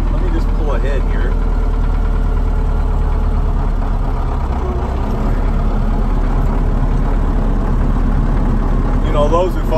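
A farm vehicle with a bale processor hooked on runs with a loud, steady engine drone close by as it pulls ahead, with someone talking over it throughout.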